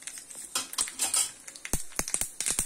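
Mustard seeds crackle and pop in hot oil, sharp irregular spits and snaps over a steady sizzle, close and fairly loud.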